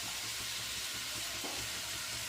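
Onions fry in a pan for a prawn and gongura curry, a steady close sizzle with a faint rhythmic stirring underneath and no voices.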